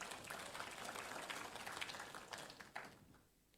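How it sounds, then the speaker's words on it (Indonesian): Applause from a church congregation at a worship service swells as broad, fairly faint clapping from a crowd, tapering off toward the end. "Tepuk tangan kita buat Tuhan."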